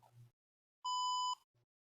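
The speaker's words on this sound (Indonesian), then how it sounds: "hidup bunyi buzzer atau buzzer bersuara untuk memberikan indikasi sudah mentok pada parkirnya" A parking sensor buzzer in a garage gives one steady electronic beep of about half a second, loud and close, with faint brief sounds before and after in an otherwise quiet space.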